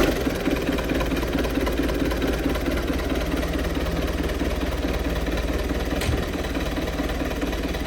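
A Belarus 892 tractor's diesel engine idles steadily nearby, a continuous low knocking rumble with a faint whir, unchanged throughout and with a brief click near the end.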